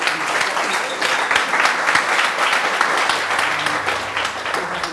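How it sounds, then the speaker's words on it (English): A live audience at a startup pitch event breaks into loud, sustained applause, with dense clapping holding steady throughout. "Can you give a big round of applause for"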